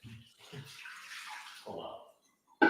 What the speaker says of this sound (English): Put water in, put the filter back in and then put the water in.